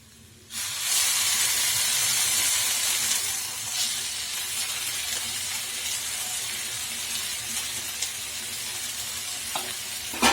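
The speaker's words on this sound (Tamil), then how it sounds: "இப்போ வந்து நான் குருமா வந்து ஆட் பண்ணுறேன்." Kurma is added to kothu parotta on a hot pan, bringing a sudden loud, steady sizzle and hiss that holds close for about ten seconds while the food is stirred, with no voices.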